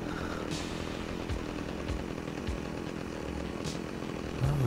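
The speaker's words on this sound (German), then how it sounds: "Kettensäge." A chainsaw in the video game Scarface drones steadily at a distance, a continuous buzzing engine whine with slight fluctuations and no talking.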